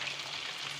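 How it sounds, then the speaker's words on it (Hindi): Marinated chicken going into hot oil makes a brief, soft, even sizzle heard up close. "हम ऐसे अपना सारा चिकन डाल के उसको फ्राई करेंगे"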